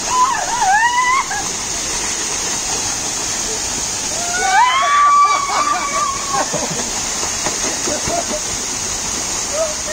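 Water from a wild waterfall splashes and gushes in a steady broad rush, with people's voices calling and talking over it in places.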